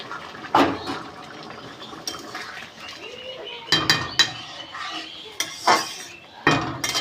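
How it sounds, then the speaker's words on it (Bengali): Hot water is poured into a cooking pot of fish and elephant-foot yam stalk curry, with pot and utensil clinks and scattered sharp knocks over a low, steady wash of liquid, close up and without talk. "এবার আমি জল ঢেলে দেবো গরম জল ঢেলে দেবো"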